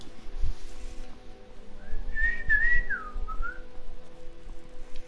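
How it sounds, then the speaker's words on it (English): A person whistles a short rising and falling tune in the video game Skyrim, clear and fairly close over low game background noise. "Were you fucking whistling?"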